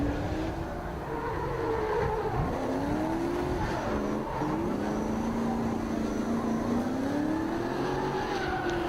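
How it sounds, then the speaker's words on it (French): V8-powered drift cars, a BMW E30 and a Nissan S15, rev hard in a tandem battle, a loud continuous engine roar with rising and falling pitch and some tire squeal throughout. "La relance, on entend le bruit des V8 qui travaillent"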